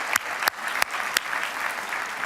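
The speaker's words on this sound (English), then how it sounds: "we should give them an applause" Scattered applause from an audience at a developer conference, with a few sharp, distinct claps standing out over a soft, steady patter of hands.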